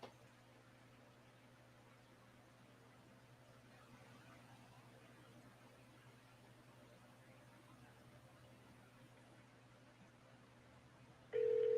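Telephone line tones heard while redialing a dropped call: a steady low hum of dial tone and busy signal runs continuously at moderate level, ending with a sudden louder, higher tone burst.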